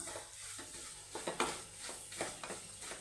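A spoon is stirring spices in a pan for a Kerala-style egg curry. Soft, steady scraping and a low sizzle come through close up, with a few brighter strokes repeating about every second and no voices.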